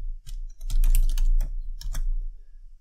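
Quick, close keystrokes on a computer keyboard as three lines of Python code are typed, coming in several dense bursts with brief gaps and a steady low hum underneath.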